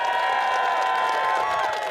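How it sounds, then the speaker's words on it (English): A crowd cheers and applauds a Labour win in the York and North Yorkshire mayoral race, a dense, steady roar of voices and clapping with a sustained whistle-like tone running through it. "Applauding the win"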